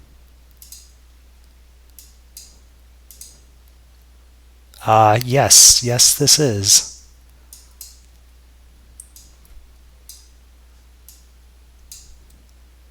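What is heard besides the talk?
ticking of alarm clock program made in Visual Basic 3.0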